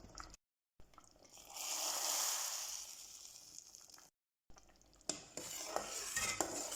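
A spoon stirs yogurt soup with vermicelli in a pot, the scraping and swishing coming in a few close, continuous bursts with short silent gaps between them.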